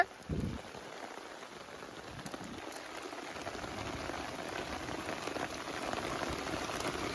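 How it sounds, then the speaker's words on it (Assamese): Heavy rain drums steadily on a camping tent at night, a dense continuous hiss that builds and stays loud throughout with a brief knock near the start. "পুৰা দিছে, জোখতকৈ মানে বেছিয়ে বৰষুণ দিছে।"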